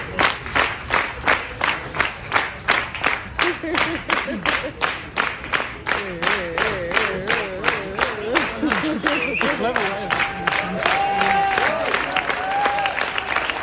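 A Japanese jazz festival crowd claps in steady unison for an encore, loud rhythmic beats continuing throughout with some cheering and voices joining in later.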